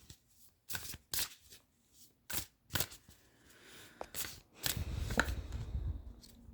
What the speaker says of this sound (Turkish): İçinizdeki çocuk için de bir kart çekeceğim.